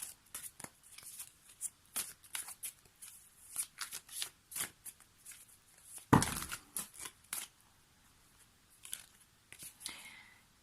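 A deck of tarot cards is shuffled by hand in repeated soft riffling bursts, close and fairly quiet, with one louder slap partway through and brief pauses between shuffles.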